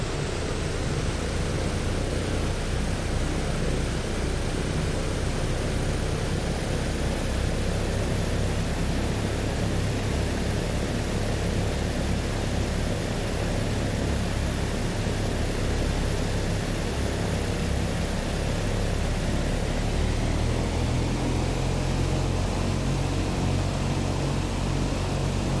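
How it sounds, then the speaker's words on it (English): Turboprop engines in a flight simulator throttling up for a pushback with the propellers in beta, a steady, loud broadband roar that holds constant throughout with no talk. "So the aircraft props are in beta. We're going to use them to give us our pushback. Bring it up the throttles."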